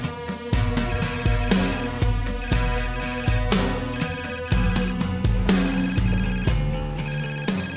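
A telephone rings with a repeating electronic melody over steady musical tones, continuous and fairly loud with brief pauses between ring cycles.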